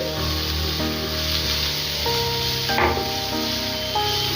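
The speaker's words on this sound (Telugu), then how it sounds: "ఉల్లిపాయలు పచ్చిమిర్చి యాడ్ చేసుకోండి అలాగే కరివేపాకు కూడా యాడ్ చేసేసుకొని ఉల్లిపాయలు బాగా ఫ్రై చేసుకోవాలి" Onions, green chillies and curry leaves fry in hot oil, a steady close sizzle with occasional stirring, and music plays over it.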